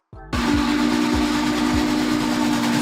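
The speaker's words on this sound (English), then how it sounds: "Steam locomotive. An old-fashioned train powered by steam engines" Steam locomotive whistle blowing one loud, sustained steady tone after a brief softer start, with rhythmic chuffing pulses underneath and no voices.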